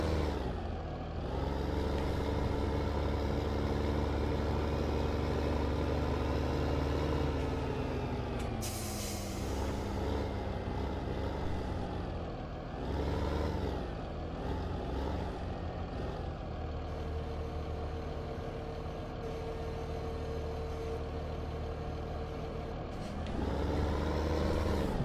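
Heavy truck engine in Farming Simulator 15 drones steadily for the whole stretch, with hissing air-brake bursts, a brief loud release near the start and another toward the end, and a steady tone partway through.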